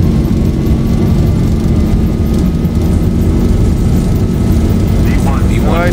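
A Dash 8 turboprop takes off in X-Plane 11 with full throttle, giving a loud, steady, droning engine roar that holds level throughout. A voice comes in briefly near the end.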